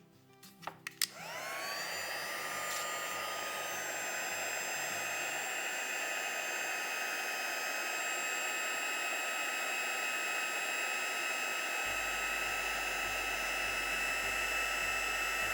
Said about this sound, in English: let's pop our embossing powder just out of the way a bit so I can do my heating